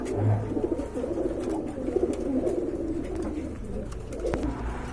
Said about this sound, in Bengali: এটা হচ্ছে আপনার লার্ক কবুতর